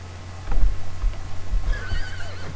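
A horse in The Sims 3 video game whinnies in a high, wavering call near the end, over a low electronic hum and soft hoof-like thuds.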